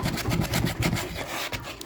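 Sandpaper rubs back and forth by hand over the wood of a homemade strongman log in quick, rhythmic, close strokes, with no talking.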